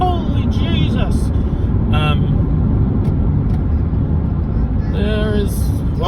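A car drives through afternoon traffic in Washington, a steady close engine and road rumble running throughout with brief tonal whines, and voices talking over it.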